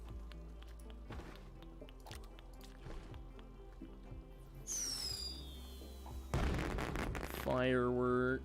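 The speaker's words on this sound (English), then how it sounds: "Firework. I could have launched that off of my own shoulder." A firework launches in the space game Astroneer, a bright whistling streak that rises over a steady droning music bed, followed by a loud crackling burst and a rising warbling tone near the end.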